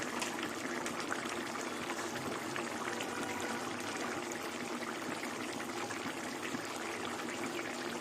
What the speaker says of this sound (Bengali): দু চামচ কাঁচা সর্ষের তেল দিয়ে দিলাম